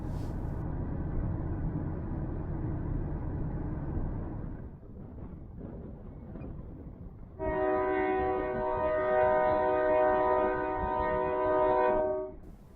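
A Union Pacific train carrying steam locomotives rumbles past steadily for several seconds, then a loud, sustained multi-tone horn blares for about five seconds before fading.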